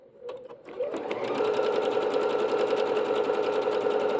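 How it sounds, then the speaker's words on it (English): Bernette B-77 sewing machine stitching through fabric: after a few brief clicks it starts up and runs steadily with a fast, even mechanical rattle, close and clear. "We're going to stitch this one through."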